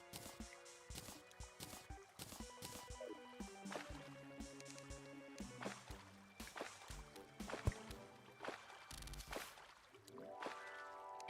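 Water sloshing and washing through blocks in the video game Terraria, with scattered splashy drips and bursts among tonal game sound effects and chimes.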